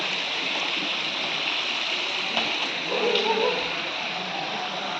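Steady rushing of a flowing stream at Mahakuteshwar fills the clip, a continuous broadband wash with a brief louder splash near the middle.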